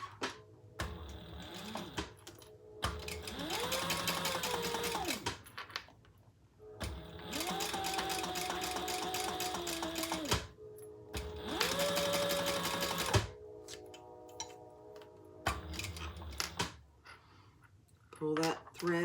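A sewing machine stitches the long edge of a key fob wallet in several bursts of steady whirring, each rising and then stopping, separated by short pauses with a voice talking.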